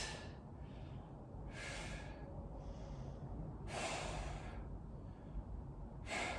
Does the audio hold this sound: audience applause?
no